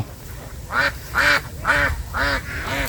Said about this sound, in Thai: เป็ดขาว